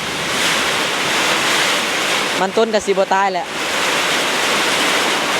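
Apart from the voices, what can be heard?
rain falling outdoors with wind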